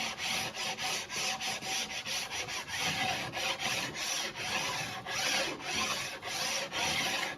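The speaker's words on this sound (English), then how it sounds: "Getting those edges really nice and smooth." A scraper works along the edge of a wooden bow, a continuous close rasping and rubbing with quick repeated strokes at a steady pace, no voices.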